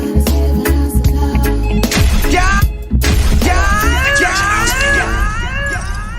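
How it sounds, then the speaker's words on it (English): An explosion sound effect played during a music show, with two loud, sudden broadband bursts over a backing track, followed by shattering noise and rising, swooping whoops. "Yeah, that was the right explosion this time."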